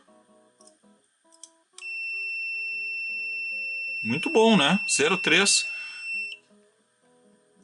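A steady high-pitched electronic beep from a Tooltop X6 clamp meter measuring resistance holds for several seconds, with a person briefly speaking over it before it cuts off.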